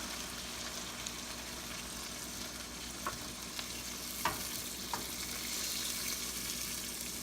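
Pork binagoongan cooks in a pan as coconut milk goes in, giving a steady, even sizzle with a few faint scattered clicks and a slight swell near the end, with no voices.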